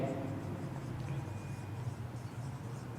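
Chalk or a marker writes on a board in soft, quiet, scratchy strokes over a faint steady background hum, with no voices.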